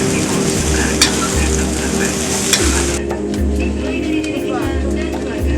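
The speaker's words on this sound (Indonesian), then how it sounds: "penjual nasi goreng" A street vendor stir-fries fried rice in Jogonalan Lor, with a steady rhythmic scraping of the spatula in the pan over a continuous loud sizzle and background noise.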